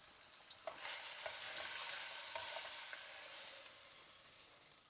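Beef browning in a hot pan for braised beef tacos, a steady close sizzle and crackle with soft scraping and stirring sounds scattered through, no voices.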